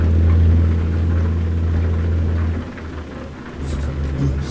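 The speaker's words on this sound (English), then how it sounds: "now it's raining like sheets and buckets" Heavy rain drums on a truck in American Truck Simulator, a dense steady hiss over low engine rumble that dips midway and then swells again, with no talk.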